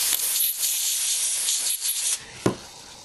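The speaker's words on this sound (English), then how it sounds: "spray it into all of your ports. Make sure you get all the dust out" Canned compressed air sprayed into iPhone ports, a close, loud continuous hiss lasting about two seconds, then a brief sharp burst and a fading tail.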